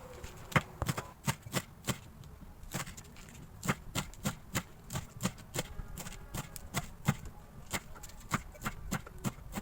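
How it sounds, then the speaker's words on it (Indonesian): A knife chops through tough, fibrous spinach stems on a board in a run of sharp, irregular close knocks with brief pauses between cuts. "Ini agak susah buat yang di pangkalnya karena itu berserat ya guys, keras-keras gitu saat dipotong."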